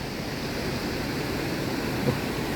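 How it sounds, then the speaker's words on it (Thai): Water flows through a Thai irrigation canal where the flow has been blocked and then opened, making a steady, close rushing wash that holds even throughout with no voices. "อันนี้น้ำไหล"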